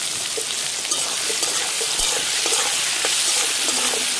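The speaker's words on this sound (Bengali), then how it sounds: "পেঁয়াজটা লাল করে ভেজে নেবো।" Chopped onions fry in hot oil with whole spices, bay leaf and dried chili, a dense continuous sizzle close up, with a few faint stirring knocks from the pan and no voices.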